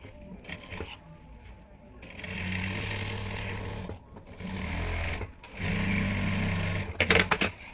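A domestic sewing machine runs in bursts, stitching the folded side hem of a dress made from a saree, with a steady motor whir and needle chatter starting and stopping between short pauses; a few small clinks and handling noises occur near the end.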